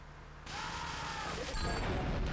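A loud explosion in Grand Theft Auto III erupts suddenly with a booming roar, followed by crackling debris and rumbling game sound effects, close and dense.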